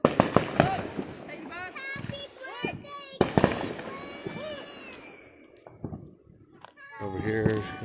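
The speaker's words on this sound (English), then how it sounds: "There's some fireworks over there." Distant Fourth of July fireworks pop and crackle in scattered bursts while children chatter and call out nearby.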